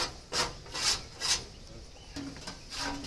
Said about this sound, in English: We'll scrape out the bottom tray.